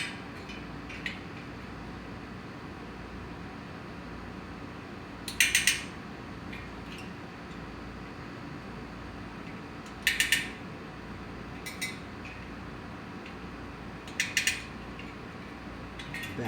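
A spoke wrench tightens spokes on a BMX bicycle wheel, making four brief, sharp metallic clicks spaced several seconds apart over a low, steady background hum.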